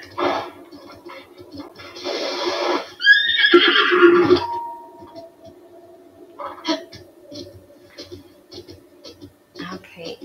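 A horse in the video game Breath of the Wild gives a loud, rising whinny midway through, amid scattered hoofbeat clatter and game noises while galloping.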